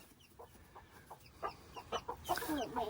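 Chickens cluck in a coop in a series of short calls, sparse at first and then busier and louder, ending in a louder squawk.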